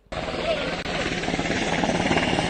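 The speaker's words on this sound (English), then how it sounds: "we also saw footage of a military helicopter, this was about 8-9 hours ago, landing at the Ramban hospital" A military helicopter landing at a hospital thrums with loud, steady rotor chopping and engine whine close by. The noise starts abruptly and runs continuously, and there seems to be a voice under it.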